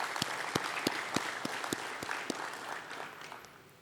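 Audience at a blockchain conference claps for a visiting president, with a scattered round of applause punctuated by several loud individual claps close by that fades out over a few seconds.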